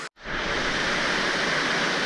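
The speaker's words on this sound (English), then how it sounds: "we've got to a big waterfall and a ravine" A steady, loud roar of a big waterfall in a ravine, a dense broad rushing that fills the scene without a break after a brief silent gap at the start.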